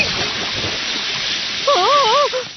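Hot water splashing and streaming in a Hindi-dubbed Doraemon cartoon episode, a steady broadband wash with a wavering whistling tone rising briefly near the end.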